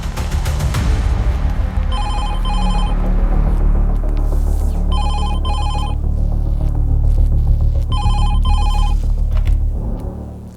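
A telephone rings in repeated double bursts, three rings in all, over a loud low hum and dramatic background music.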